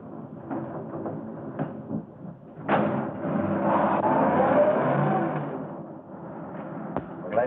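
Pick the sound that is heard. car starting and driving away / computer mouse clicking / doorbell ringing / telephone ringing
car starting and driving away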